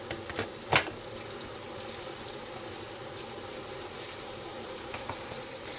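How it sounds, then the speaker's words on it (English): Onions and tomatoes fry in a pan, giving a steady soft sizzle with a few sharp clinks of a utensil early on, close and fairly quiet with no one speaking. "now the onions and tomatoes are getting golden brown and are cooking"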